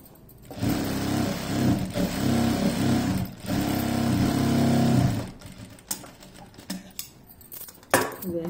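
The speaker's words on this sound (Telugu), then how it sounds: "ఒక స్టిచ్చింగ్ వేసుకోండి." A sewing machine stitches fabric for a baby midi dress in two steady whirring runs, then stops, followed by soft clicks and handling noises, with no talking.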